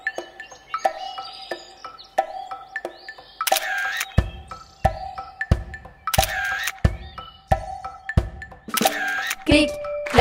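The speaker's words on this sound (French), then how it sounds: "Clic, clac, clic, clic et clac. Je suis un petit photographe." Camera shutter clicks punctuate a children's song, repeated crisp clicking sounds falling in a regular rhythm alongside musical tones and sung voices.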